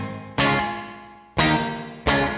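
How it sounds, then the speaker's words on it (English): Three struck guitar chords run through an effect of stacked quick delays emulating reverb, each attack loud and sharp, then a long shimmering trail with a faint ringing tone that decays until the next strike. "It's definitely like a stacked quick delay sort of reverb emulation."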